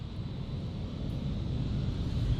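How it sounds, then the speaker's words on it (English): A KLM Cityhopper airliner bound for Hamburg takes off at Amsterdam Airport, heard as a steady, moderate engine rumble that swells gradually over a couple of seconds. "And there goes the KLM City Hopper."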